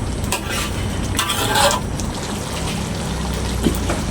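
Tamarind liquid pours into a pan of beef sambal with a soft, steady trickling splash, followed by quiet stirring and sizzling.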